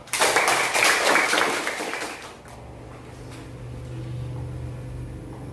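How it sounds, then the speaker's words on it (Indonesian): A classroom group claps together loudly for about two seconds, then the applause fades into a quiet room with low background hum. "Sekali lagi tepuk tangan untuk kita semua."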